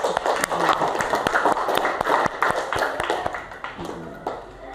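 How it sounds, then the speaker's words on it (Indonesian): Classroom applause after a student answers correctly in a lesson on the circulatory system, dense claps sustained for several seconds at close range, with a few sharper taps standing out. "Tepuk tangan dulu untuk."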